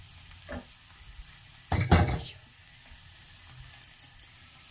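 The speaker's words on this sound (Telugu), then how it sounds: "తాలింపు కూడా కాగుతుంది" A burst of sizzling as a tempering hits hot oil while cooking drumstick-leaf dal, a loud crackling rush that fades, with faint clinks of a pan around it.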